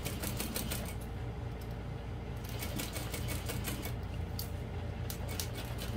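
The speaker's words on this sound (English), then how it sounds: "I'm just sewing that together using a slightly less than a half inch seam allowance." A sewing machine stitches the lining of an all-vinyl bowler bag with a continuous, rapid mechanical whir and chatter, close and steady from start to finish, with no one talking.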